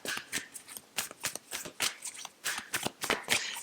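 A deck of Work Your Light Oracle cards is shuffled by hand, giving a run of quick, close riffling and sliding bursts in an uneven rhythm with no talking.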